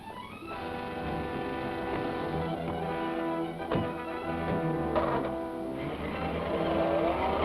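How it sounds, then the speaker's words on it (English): A car speeds away down a highway in a chase, its engine droning and revving steadily at moderate loudness with no talk over it. "That's Brewster's car. He's trying to get away."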